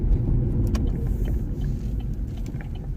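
A Vauxhall Astra J driving in third gear, with a steady low engine and road rumble from inside the cabin, with a few faint clicks and knocks.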